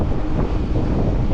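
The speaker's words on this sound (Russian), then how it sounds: "Ох ты, какой ветер, подлюка." Strong wind roars and buffets the microphone on a mountain climb near Yalta in Crimea, a steady, dense rumble with no pauses and no voices.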